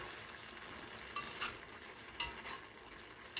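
Vegetables for chop suey are stirred in vegetable stock, a faint wet background simmer broken by a few brief scraping strokes of a utensil against the pan.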